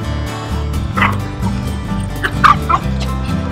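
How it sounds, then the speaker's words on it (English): A sheepdog barks and yips during a play session, a few sharp barks close by mixed with whimpering, over a steady background hum and some faint voices. "you got a sheepdog right here"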